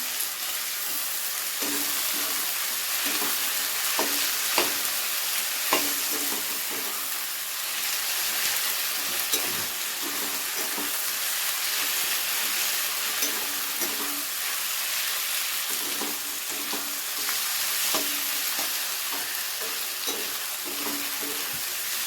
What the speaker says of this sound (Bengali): লঙ্কা বাটাটা দিয়ে পেঁয়াজের সাথে ভালো করে মিশিয়ে নেব